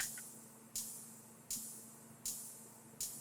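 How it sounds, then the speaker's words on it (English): A ride cymbal rings softly in an even pulse, four bright washy strikes spaced evenly apart, each decaying into a quiet hiss. "I added a ride, which sounds like this."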